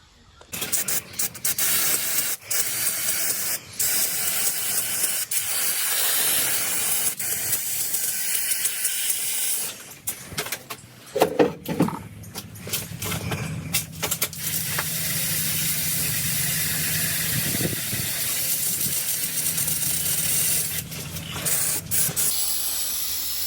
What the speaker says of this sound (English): just bank some degreaser on